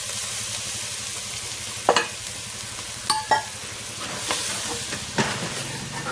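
Flour cooks with celery in a pan, a soft steady sizzle broken by several sharp scrapes and stirs of a utensil against the pan.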